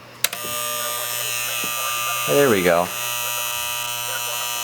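A General Electric solid state clock radio alarm gives a steady, loud electric buzz throughout, wavering briefly near the middle, while a person speaks a few words over it near the start.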